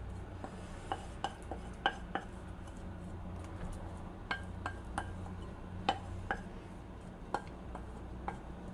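Grated potato is mixed with settled potato starch in a bowl, giving about a dozen light clinks and taps of a utensil against the bowl, spaced irregularly over a low steady background, with no talking.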